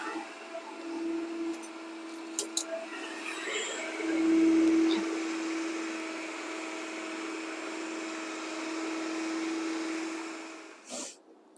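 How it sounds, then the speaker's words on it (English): An electric mixer whirs on a low speed through banana cake batter, a steady motor drone that swells and settles, with a few light clinks and a brief clatter at the end. "get the mixer going again slowly"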